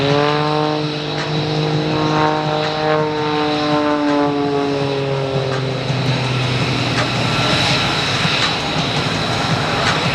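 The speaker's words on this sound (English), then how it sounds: "Brian Carell going through a bit of a tumbling maneuver as he slows it down" An aerobatic propeller plane, about 1,200 pounds, drones loudly at an airshow, its engine pitch sliding down and then steadying as it tumbles, then roaring up again as it maneuvers close by.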